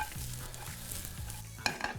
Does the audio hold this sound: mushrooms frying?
yes